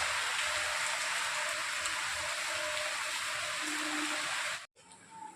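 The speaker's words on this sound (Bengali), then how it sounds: "অনেক বড় তো বৃষ্টি হচ্ছে" Heavy morning rain pours down in a dense, steady hiss with scattered drip patter, then cuts off abruptly near the end.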